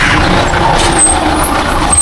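A truck passes close by on a busy road, its low engine rumble steady and loud throughout with a hiss of air brakes among broadband traffic noise; no one speaks.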